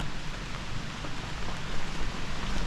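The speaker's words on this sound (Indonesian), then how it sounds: "Hujannya deras teman-teman" Heavy rain pours steadily in a dense, even roar around an abandoned house, loud and close with no break and no talk.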